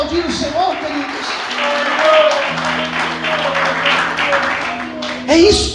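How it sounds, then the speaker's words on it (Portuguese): A church congregation claps their hands in praise, the dense patter running steadily throughout alongside a sustained musical tone and raised voices. "Você pode aplaudir o Senhor,"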